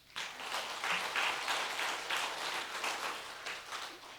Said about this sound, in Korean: 우리 하나님께 영광의 박수 올려드리십시다.